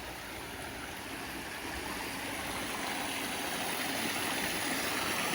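A small waterfall beside a spring hiking trail, heard as a steady, even rush of falling water, fairly quiet and unbroken, with no voices.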